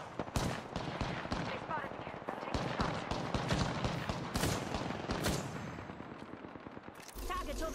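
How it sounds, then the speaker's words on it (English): Dense, sustained video game gunfire crackles through a firefight, rapid overlapping shots and bursts running nearly continuously, loud and close, with a brief pause near the end before the shooting resumes. "Shots fired, and they're hitting me."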